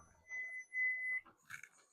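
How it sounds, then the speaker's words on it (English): A kitchen timer alarm beeps while eggs are being hard boiled on the stove, a short run of bright electronic tones sounding close and clear, then stopping. "Okay, there's our timer."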